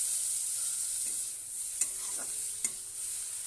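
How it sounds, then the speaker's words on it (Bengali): Chopped tomatoes frying in a pan with Kashmiri chili powder, coriander powder and turmeric for paneer butter masala, a steady close sizzle with two sharp clinks of a spoon against the pan. "কিছুক্ষণ ভাজার পরে দিয়ে দেবো টমেটো কুচি।"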